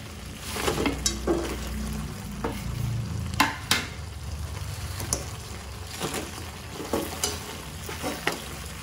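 Fried fish is stirred through a sweet-sour sauce of sugar and water in a pan, giving repeated scraping strokes over a steady sizzle, close and moderately loud, with no talking.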